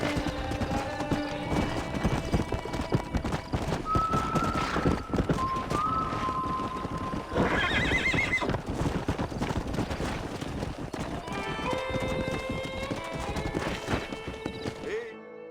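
In a PC video game, Red Dead Redemption, horse hooves clip-clop steadily with a couple of whinnies and neighs from a stallion, over busy game background sound and music throughout.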